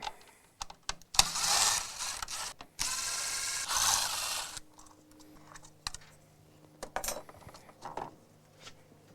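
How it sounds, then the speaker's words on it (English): A screwdriver or ratchet works Torx T15 screws out of a vehicle headlight during a JW Speaker J3 install, with bursts of whirring and ratcheting, then scattered clicks and taps of parts being handled, close and no voices. "To get the headlight off, you just remove these four T15. So it's a Torx T15 size screws."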